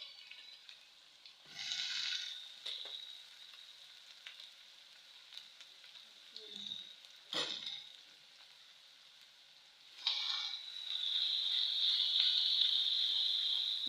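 Ginger garlic paste frying with onions and pork in a pan, a steady sizzle swelling louder toward the end, broken by occasional stirring scrapes and clatters, with no talking.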